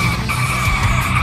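Cars skid with loud, sustained tire squeal as they spin donuts in a multiplayer driving video game, a short, dense burst of screeching engine noise.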